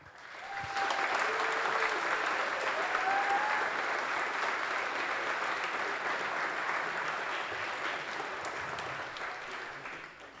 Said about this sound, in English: please join me in one final applause for our finalists and winners tonight